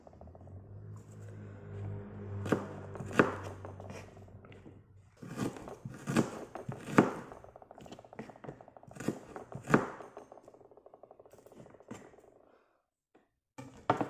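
A knife slices through an onion on a board, giving several separate crisp chops and thuds in an irregular rhythm with pauses between, close and fairly quiet over a low background hum.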